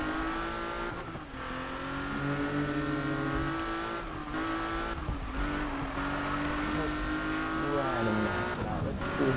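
A race car engine in the Need for Speed video game revs and climbs through the gears, its pitch rising and dropping with each shift, along with brief tire squeal, loud and continuous.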